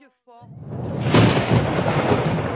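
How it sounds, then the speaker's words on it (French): Violent overnight thunderstorm with downpours in the south of the island near Basse-Terre: a loud, swelling crash of thunder rolling over dense hissing rain, following a brief snatch of voice at the start. "Des orages violents et des trompes d'eau durant toute la nuit."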